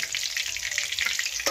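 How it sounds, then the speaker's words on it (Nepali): Pieces of local chicken and chicken wings frying in oil in a pan, a steady close crackling sizzle with tiny pops and a brief stirring scrape near the end, no talk. "फ्राई लगभग भइसकेको छ।"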